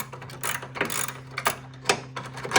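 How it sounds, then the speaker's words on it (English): A ratchet works a nut on an old Mustang, rapid clicking pawl bursts in repeated short strokes, close and fairly loud over a steady low hum. "Now we can go get the ratchet. We're gonna have to back this nut in"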